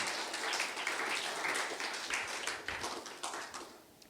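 A church congregation breaks into applause, steady moderate clapping that gradually tapers off over a few seconds.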